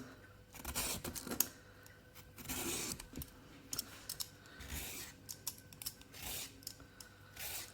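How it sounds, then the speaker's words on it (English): A potato peeler shaves a carrot into thin slices, making soft, close scraping strokes in repeated bursts with short pauses between them, quiet and with no talking. "you just peel the carrot, like so"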